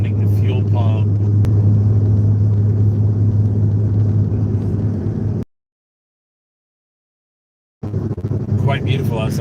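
A diesel car engine drones steadily while driving with the fuel pump off, a loud low rumble with wind noise that cuts out for a couple of seconds before returning.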